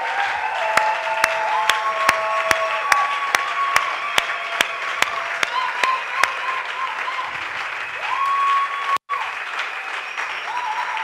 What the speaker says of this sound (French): Je voudrais que nous puissions offrir une offrande d'acclamation, Seigneur.